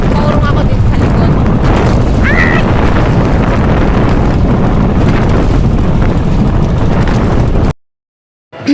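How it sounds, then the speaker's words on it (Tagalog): Strong wind at sea batters a small boat travelling from Baruan to Lacguit Tupa, a loud, rough roar of wind noise on the microphone that cuts off abruptly into near silence near the end. "nakikita nyo naman kung gaano kalakas talaga yung hangin, oh."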